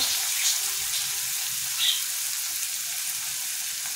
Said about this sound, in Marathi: आता कांदा आपला भाजत आलेला आहे.